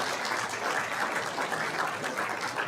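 A steady wash of applause at a school board meeting, honoring the Hartland Esports state champions, continuous and fairly loud with no break.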